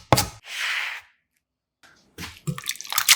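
Cooked pumpkin is squeezed by hand to press out its water, a close, wet hiss of liquid streaming out, then a pause and a run of squishy drips and soft knocks.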